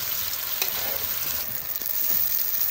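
Potatoes and carrots are stirred in a pan of frying chicken curry, giving a steady close sizzle with light scraping from the stirring and no talking.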